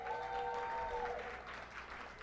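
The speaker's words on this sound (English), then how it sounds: "Give yourselves one more round of applause." Quiet, fairly distant audience applause at an awards ceremony, steady clapping over about two seconds with a brief tonal sound near the start and a slight fade toward the end.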